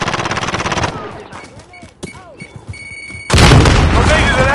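A grenade blast and gunfire ring out in Call of Duty: Modern Warfare: a loud burst of combat noise, a quieter stretch with scattered shots and small sounds, then another heavy, sustained roar of explosion and firing near the end.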